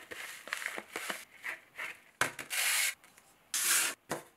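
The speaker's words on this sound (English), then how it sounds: "Before I paint, I need to prep my surface, so I'm using this very fine hand sanding pad" A light switch is sanded by hand with a very fine sanding pad before painting: a series of close, quiet rubbing strokes, short at first, then longer rasping passes separated by brief pauses.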